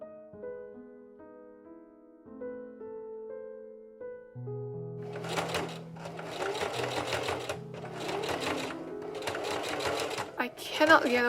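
Sewing machine stitching a cord-filled tab closed with a short stitch length while making an 1830s corded corset, close and clear in several rapid whirring bursts with short pauses between, following a stretch of soft music.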